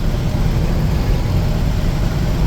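A 1986 Ford F250 farm truck engine roars continuously while driving at speed, a dense, loud low rumble with steady road and wind noise and no break throughout.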